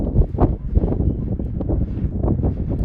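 Gusty wind buffets the microphone at an outdoor college baseball game between Kansas and Oklahoma, a loud, steady rumbling roar with uneven surges and no talk.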